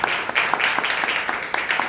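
Church congregation clapping along in a rhythmic beat during a Resurrection Day service, steady and loud, with faint voices underneath.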